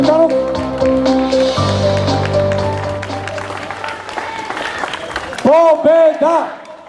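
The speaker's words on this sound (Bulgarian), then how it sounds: "Бурни аплодисменти за господин Цветанов." Crowd applause at a GERB party election rally greeting Tsvetan Tsvetanov, steady clapping and cheering running beneath a loud amplified announcer's voice and music, with chanting rising near the end.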